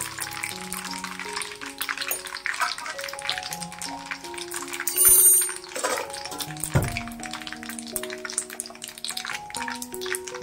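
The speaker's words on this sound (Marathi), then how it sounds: "फोडणी चांगली खमंग होऊन द्यायची." Tempering of asafoetida and turmeric in hot oil for an Indian gooseberry pickle, giving a steady close sizzle and crackle with brief clinks and a louder burst partway through, with no talking.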